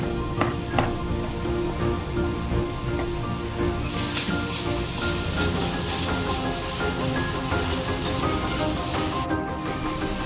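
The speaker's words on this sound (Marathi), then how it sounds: "आता टोमॅटो टाकून परतून घ्या." Tomatoes sautéing in a pan for an oil-free sandage dish cooked with water, a continuous close hiss and sizzle that grows brighter partway through, with no talk.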